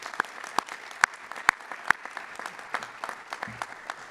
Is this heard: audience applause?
yes